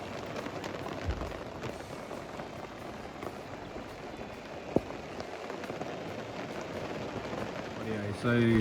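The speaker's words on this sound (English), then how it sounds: "it's just started bucketing down with rain" Heavy rain pours steadily on a campsite, a dense continuous hiss of drops drumming on surfaces, with a brief knock midway and a louder burst of noise at the very end.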